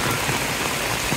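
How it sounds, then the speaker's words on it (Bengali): Steady rain falls over a flooded rural area in Bangladesh, where farm fields and crops lie underwater, producing a constant broadband hiss that stays even and close throughout the short stretch with no voices. "বৃষ্টির মধ্যে সব কিছু ডুবে শেষ"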